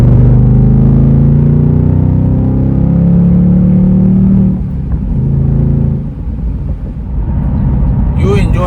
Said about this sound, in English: You enjoy driving this car mainly because of that engine and the noise it produces